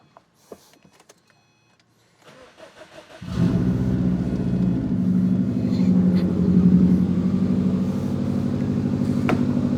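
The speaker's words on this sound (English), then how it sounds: "Don't you love it when it just starts up?" A rebuilt Subaru EJ25 engine cranks briefly after quiet, then fires and settles into a steady, close, even-running idle for the rest of the clip.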